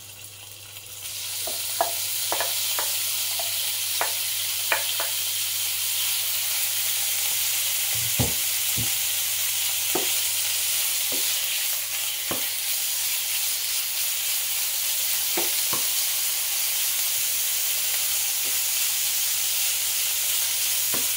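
Pork pieces frying in hot oil for adobong sitaw, a steady broadband sizzle running throughout with scattered sharper pops and crackles, close and fairly loud.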